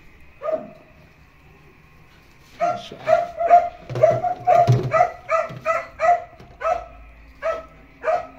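Hungry pet dogs bark and whimper close by, starting with a lone yelp, then a rapid run of sharp barks and whiny yips mixed together, with no talk.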